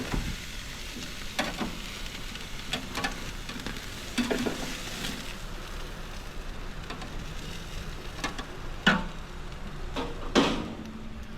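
Ribeye steaks sizzle on a hot grill and griddle with garlic butter and thyme: a steady close crackling hiss runs throughout, broken by a few sharp clicks and clatters of handling.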